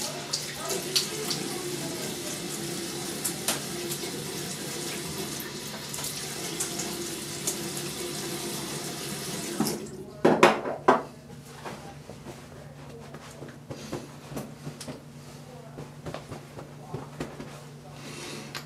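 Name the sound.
water running while rinsing shaved head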